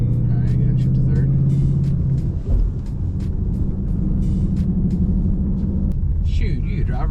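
Ford Mustang GT S197 with a manual MT-82 gearbox, its engine droning steadily and loud from inside the cabin as a gear change is made, a low hum dipping and settling again.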